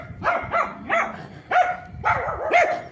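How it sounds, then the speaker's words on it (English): A big dog barks repeatedly in short clustered bursts from an alleyway behind houses in Luton, UK, loud and fairly close, with brief pauses between the volleys. "Dog barking."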